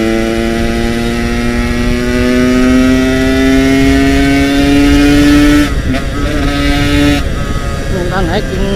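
A standard Yamaha RX King two-stroke motorcycle engine drones steadily while riding on a quiet road, pitch creeping upward under load, then briefly dropping and returning near the end; loud and close throughout.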